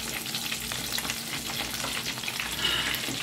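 Prawn cutlets for Sri Lankan devilled prawns frying in a pan, a continuous close sizzle and crackle of hot oil with a few spits and pops, steady throughout.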